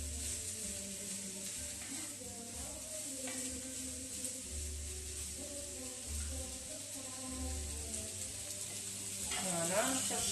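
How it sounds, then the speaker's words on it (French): Onions frying in a pan for a butternut curry, a steady close sizzle and hiss holding throughout, with occasional stirring and a low hum underneath. "vous pouvez faire revenir les oignons comme ça"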